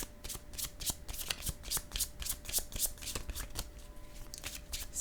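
Tarot cards are shuffled by hand in a steady run of quick papery riffles and slaps, close and clear, with the rhythm continuing throughout.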